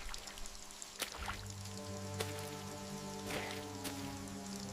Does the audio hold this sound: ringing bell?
no